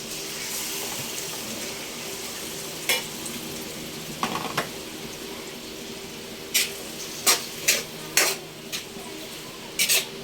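Beef frying in oil in a pan for creamy beef mushroom, a steady close sizzle under occasional scraping and clinks of a utensil stirring against the pan.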